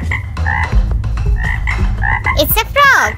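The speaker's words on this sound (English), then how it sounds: "It's a frog." Frog croaking, a series of loud, close, rhythmic throaty croaks with short pauses between them, ending in a few rising and falling squeaky calls, with no talking.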